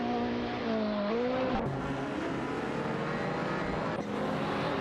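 A Ferrari 288 GTO Evolution and a McLaren F1 GT racing in a video game, engines droning steadily with rising and falling pitch as they shift gears, loud and continuous.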